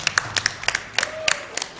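An audience at a Games Done Quick speedrun marathon claps sparsely, scattered individual hand claps tapping out over a couple of seconds, fairly near and modest in volume.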